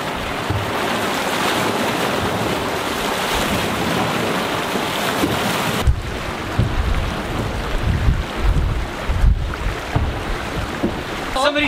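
A sailboat makes almost 8.5 knots off Phuket in light wind, with steady rushing water along the hull, wave wash and gusty wind noise on the microphone throughout, and a few knocks in the second half.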